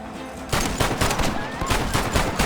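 Rapid bursts of gunfire crackle in a Red Dead Redemption shootout, several loud overlapping shots and volleys packed close together in a dense, unbroken barrage.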